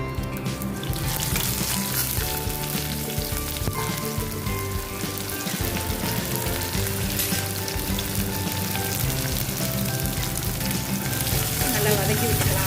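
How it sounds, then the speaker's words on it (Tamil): Onion, tomato, curry leaves and two dried red chillies frying for a tempering in a pan, a dense, continuous sizzle and crackle heard up close, with occasional stirring scrapes. "வெங்காயம் தக்காளி கருவேப்பிலை 2 வரமிளகாய் தாளிக்க போட்டுக்கலாம்"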